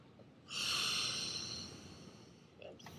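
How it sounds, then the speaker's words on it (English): A long, deep inhalation swells and holds for about a second before easing off as a quieter exhale, followed by a faint second breath; close and airy, with no one talking. "Take a few deep breaths in"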